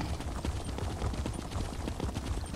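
Horse hooves thudding at a steady clip-clop rhythm as a mount is ridden in The Elder Scrolls Online, a continuous close patter of game footfalls over a low ambient bed with no talk.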